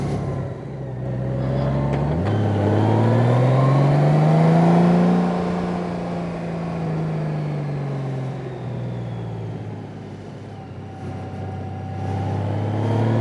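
A 2018 Honda Goldwing motorcycle rides a hilly, winding road, its engine note rising and falling smoothly through acceleration and gear changes, loud and close with steady wind-like road noise and no talk.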